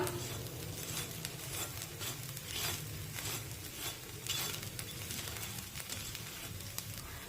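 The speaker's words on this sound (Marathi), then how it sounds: "हे एका बाजूने थालीपीठ भाजलेलं आहे आता यावर आपण तेल सोडूया" Oil sizzles steadily under a fasting potato thalipeeth frying in a pan, a soft continuous crackle with faint pops, close and fairly quiet, with no talking.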